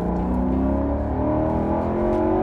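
A Maserati Quattroporte S engine drones and revs under acceleration, a steady mechanical hum rising slightly in pitch, fairly loud and close.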